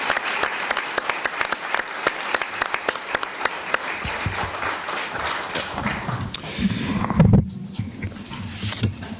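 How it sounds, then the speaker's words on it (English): Keynote speakers at an air-pollution conference receive audience applause, a clatter of distinct claps that thins out midway. Murmuring voices and room noise take over after the clapping. "I think we owe all of our keynote speakers an applause."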